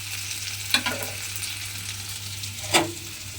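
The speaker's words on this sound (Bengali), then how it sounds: "গোবিন্দভোগ চালটা তেলের মধ্যে দিয়ে একটু ভাজা ভাজা মতো করে নিয়েছি" Gobindobhog rice frying in hot oil, a constant low sizzle broken by two sharp scrapes of a spatula stirring the pan, close and clear with no talking.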